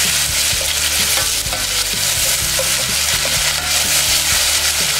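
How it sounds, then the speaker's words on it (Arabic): Onion frying in a pan for a quinoa vegetable soup, a dense continuous sizzle with repeated scraping stir strokes close up, and no voices. "دائما البصله ملي كتقلى هي الاولى كتعطي واحد البنه زوينه"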